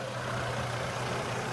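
A Trailblazer Envoy with a swapped 4.2 engine idles steadily under an open hood, a low even rumble with a constant hum, close by and with no talk.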